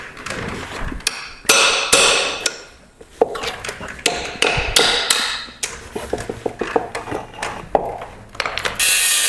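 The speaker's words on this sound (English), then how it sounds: "So I'm going to take these counterweights off because we can't use them with the 318." Counterweights are knocked off a torque converter for a Plymouth Barracuda's 318 engine, close sharp metallic hammer blows and ratcheting clicks in irregular bursts with short pauses, no talking.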